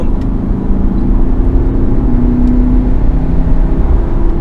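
Inside a Land Rover Discovery Sport TD4, the diesel engine pulls under acceleration as a muted, well-filtered drone with a steady low hum and a faint rising whine in the cabin.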